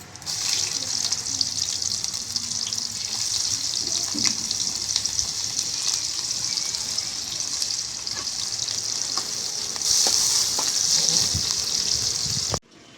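Cumin seeds and onion frying in hot oil, a loud continuous sizzle with occasional crackles and stirring scrapes, swelling brighter near the end before cutting off abruptly.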